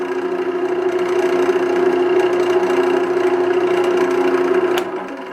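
A wood lathe spins a lacewood bowl at slow speed, giving a steady mid-pitched motor hum with a faint whir that stays even throughout, then drops slightly near the end; no talking.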